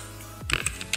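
Quick keystrokes on a computer keyboard as a blog title is typed, a short burst of crisp, close clicks with a brief pause between them, fairly quiet and with no talk.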